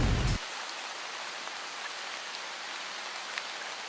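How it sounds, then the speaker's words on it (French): Video game rain falls as a dense, even hiss of drops that holds steady throughout, after a brief louder low rumble right at the start. "Les développeurs nous avaient appris avant qu'il y avait un truc qui fait de la pluie"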